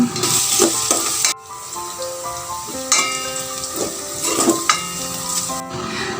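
Garlic and onion sauté in two tablespoons of hot oil in a pan, a steady dense sizzle and crackle with stirring clatter and a brief pause near the start, close and loud with no talk.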